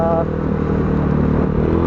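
A stock 125cc motorcycle engine runs close by, a steady throbbing putter with a brief higher tone at the start.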